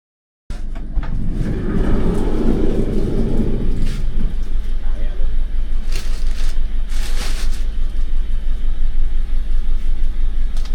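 Campervan engine in a garage as the vehicle is moved forward: a low, steady rumble starts abruptly and continues, with a heavier surge early on and scattered knocks and clatters nearby.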